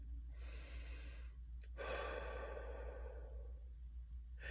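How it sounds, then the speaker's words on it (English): A slow, deep breath during a guided inner-child healing visualization, with a long soft inhale followed by a fuller exhale, close and quiet over a steady low hum, without any talking. "let's take a deep breath."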